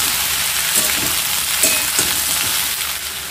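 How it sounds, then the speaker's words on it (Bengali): Chopped ridge gourd is stir-fried and mixed in a hot pan, giving a loud continuous sizzle with a few soft scraping stirs throughout. "এবার ঝিঙের সাথে ভালো করে আমি সব কিছুকে মিশিয়ে নেব।"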